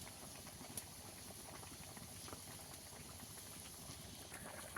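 Broccoli curry simmering in a pan after water is added, a steady close bubbling and hissing boil that runs evenly throughout with small pops and no voices.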